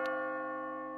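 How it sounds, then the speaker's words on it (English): A bell in the video game Catherine rings as the player nears the top of the tower. It gives one steady, sustained metallic tone with a sharp strike at the start, clear and alone. "As you near the top, you will hear a bell ringing."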